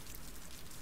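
Steady rain in the furry visual novel Fatal Force, a dense, even hiss of falling water that stays constant and fairly quiet, with no voices.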